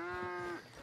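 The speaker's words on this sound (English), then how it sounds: "I can't tell which one of these are cows or which one of them are bulls or steers" A cow moos once in the video game Red Dead Redemption 2, a low sustained bellow lasting about half a second, followed by quieter background noise.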